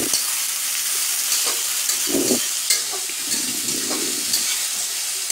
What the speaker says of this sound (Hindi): जब तक अच्छी तरह से प्याज जो है भूरा ना हो जाए उसको चम्मच से इस प्रकार से हिलाते रहिए